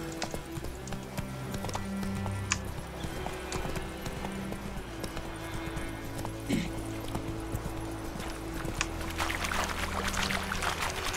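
A horse gallops in The Witcher 3, its hooves beating a quick, steady clip-clop rhythm over game music, with a faint whinny.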